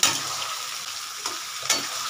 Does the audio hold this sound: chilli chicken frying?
yes